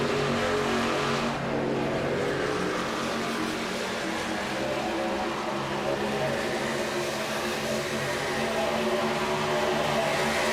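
Stock-style race cars in a Contender Series event run laps through lap traffic, producing a steady, loud, continuous engine roar with layered droning tones and no pauses or voices throughout.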